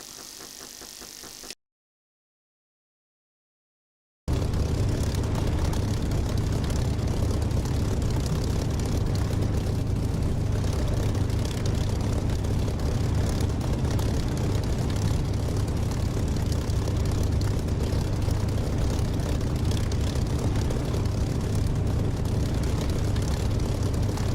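Fixed-wing aircraft taxiing in the DCS flight simulator game, a steady loud propeller-engine drone running continuously after a brief silent gap near the start.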